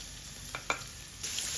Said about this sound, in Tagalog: Lagay natin yung oil. Then, ilagay natin dito yung ginger. Saka natin ito haluin.